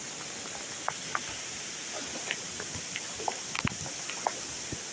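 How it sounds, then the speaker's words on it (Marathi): Heavy rain hisses steadily in the background by a forest river where buffaloes are soaking, with scattered drops tapping and pattering nearby, at a fairly even moderate level. "आणि पाऊस पण सुसाट आलाय"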